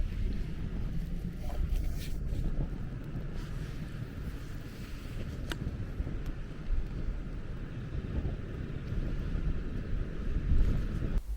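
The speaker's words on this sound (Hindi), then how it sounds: "बहुत तेज हवा आ गई अचानक।" Strong, sudden wind gusting at a mountain campsite on the Chamba trail beside a campfire, a loud continuous roar with buffeting bursts against the microphone, no voices.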